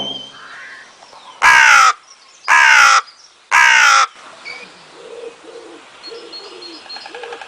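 A crow gives three loud, harsh caws, evenly spaced about a second apart, followed by softer chirps and cooing from other birds nearby.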